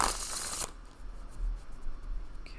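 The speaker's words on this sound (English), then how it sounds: "if it's too loud on the microphone with the shuffling" Tarot cards are shuffled close to the microphone, a loud riffling burst at the start followed by softer sliding and tapping of the deck.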